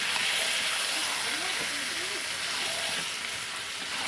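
Spice paste for a chicken dish fries in a pan over a wood fire, giving a constant hissing sizzle under faint, indistinct background voices.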